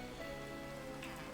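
Steady rain in a Minecraft modpack game world, a continuous even hiss of falling drops with no pauses or voices.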